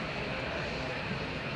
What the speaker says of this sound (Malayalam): പ്ലെയിൻ്റെ ശബ്ദമാണോ